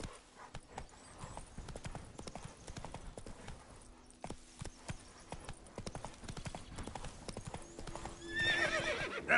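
Horse hooves clip-clopping at a steady walking rhythm in The Witcher 3, with a neigh or whinny, while a voice speaks briefly over the hoofbeats.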